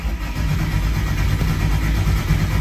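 Frankenstein Coyote engine combo starting for the first time, a loud, close, steady engine rumble that catches and runs at a rough idle, with no voices.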